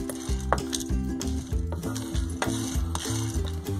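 Chana dal lentils dry roasting in a pan for chilli powder, with steady sizzling and crackling and repeated scraping and stirring against the pan, close and continuous.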